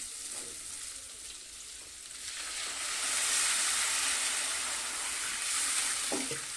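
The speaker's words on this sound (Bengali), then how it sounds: "এবারে আমি জলটা দিয়ে দিচ্ছি ওপর থেকে।" Water is poured into a hot frying pan of muri ghonto, a Bengali rice and fish-head dish, raising a soft but growing sizzle and hiss that swells midway and stays steady, with no talking.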